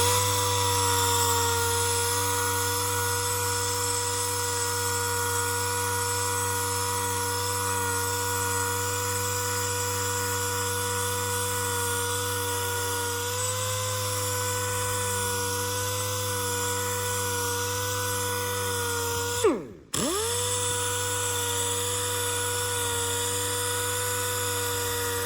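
A handheld power tool sands scratches out of stainless steel tubing with a steady, close, high-pitched whine and hum that holds for a long stretch, then briefly cuts out and spins back up near the end, with no speech.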